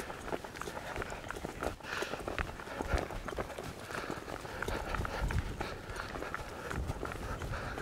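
A young colt's hooves drum in a quick, steady running rhythm over ground while it tracks a cow, fairly close and continuous with no voices over it.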